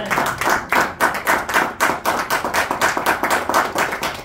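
A church congregation claps together in a steady, dense rhythm, loud and close, filling the hall with sustained applause and no voices over it.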